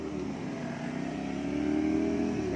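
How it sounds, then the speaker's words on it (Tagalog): A motorcycle engine runs steadily nearby, a throaty mid-pitched drone that swells slightly louder toward the end, with no talk over it. "Eto magagandang motor, oh."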